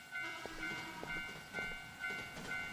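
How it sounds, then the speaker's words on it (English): A train passing by in a horror video game: a steady rumble with sustained tonal hum and faint rhythmic clanks recurring roughly every half second, moderately loud and alone without speech. "Okay, it was just a train."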